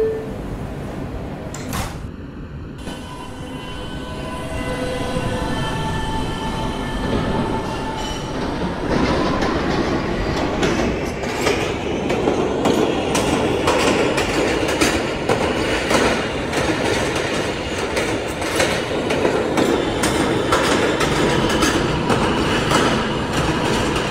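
Subway train in the Roblox game PTA Subway, an E train on the Fifth Avenue lines, pulling away and rolling steadily with rhythmic wheel clatter, rising rumble and occasional squeal, loud and close.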